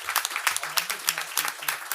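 A crowd at a political education event applauds, dense clapping running under a voice that carries on talking throughout.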